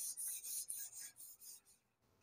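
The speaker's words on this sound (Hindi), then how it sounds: "अभी 220 नंबर का रेगमाल से इसकी जब ये कटाई कर रहे हैं" Sanding sealer on wood is rubbed down with 220 grit sandpaper in several quick rhythmic rasping strokes, close and soft, fading toward the end, with no talk.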